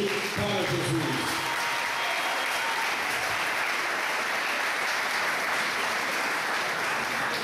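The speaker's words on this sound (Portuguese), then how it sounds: "as palmas bem forte para Jesus" A church congregation claps for a gospel singer being introduced on stage, a steady wash of applause throughout, with faint musical tones briefly audible at the start.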